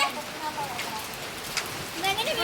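Rain mixed with falling hailstones patters and hisses steadily on surfaces outdoors, a dense, fairly faint wash of impacts with occasional sharper hits and no speech.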